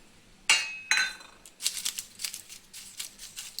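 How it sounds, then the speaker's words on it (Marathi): A stainless steel plate is handled with onion peels being placed in it in a home kitchen, giving two sharp metallic clinks followed by a run of light rustling and tapping sounds, close by and fairly quiet. "ती आपण एक अशी थाळी घ्यायची आहे स्टीलची, आणि त्याच्यामध्ये ही साल ठेवायची आहे."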